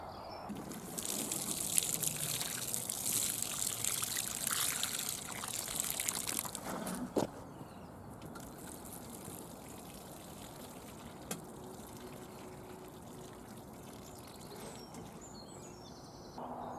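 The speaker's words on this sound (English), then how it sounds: "Just need to water them in now." Water pours from a can over newly planted pumpkins and courgettes in an allotment plot, a steady splashing trickle for about seven seconds that stops abruptly, leaving quiet outdoor ambience with faint birds.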